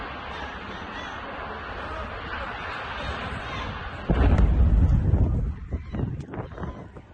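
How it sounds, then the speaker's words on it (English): A massive explosion at a gas station erupts as a sudden loud, booming burst over steady wind-like rumble, then rolls on with low roaring and a few sharp pops as it fades. "look at this massive explosion from this gas station"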